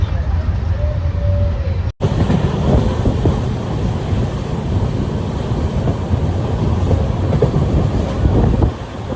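The Karnataka Sampark Kranti Express rumbles steadily along the rails near Davangere, a continuous loud low roar with faint rhythmic clatter and a brief dropout near the start.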